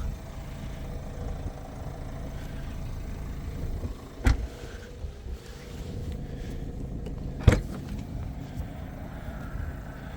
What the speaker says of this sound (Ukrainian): Електропривід кришки багажника.